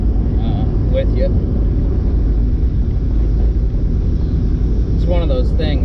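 Engine of a V8-swapped Mazda Miata (MX-5) rumbles loudly from inside the car while driving, a dense steady low drone with a voice talking over it.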